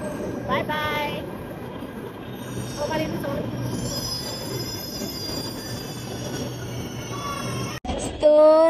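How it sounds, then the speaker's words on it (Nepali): A Delhi metro train runs with its wheels squealing, high-pitched continuous tones over a steady rumble of rolling stock for several seconds, ending with a sharp break and a louder burst of noise close by. "हाम्रो मेट्रो चाहिँ आइसकेको छ. अब हामी चढेर जान्छौं."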